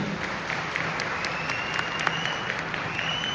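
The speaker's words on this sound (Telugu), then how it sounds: "అందుకోసం బిగ్ క్లాప్ అందరూ." Audience at a Safe Shop diamond recognition event applauding, a dense, sustained round of clapping from a crowd filling the room.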